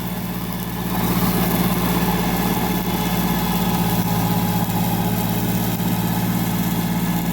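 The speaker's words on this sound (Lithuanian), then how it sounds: "štai taip atrodo mūsų žolės smulkinimas su Y formos" A tractor-driven grass chopper runs steadily, a constant low engine drone with a humming mechanical whine and rattling vibration, no voices.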